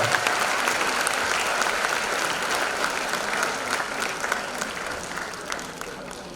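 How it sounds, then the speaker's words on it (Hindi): Audience applause at a women achievers awards ceremony, a sustained dense patter of many hands clapping that slowly tapers off, with faint crowd murmur underneath. "जोरदार तालियों से ब्रजभूषण जी का"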